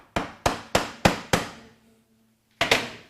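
Someone taps the engine case of a Ducati 900SS motorcycle to loosen it. Five sharp, close metallic knocks come in a steady rhythm, then a short pause and a final double knock.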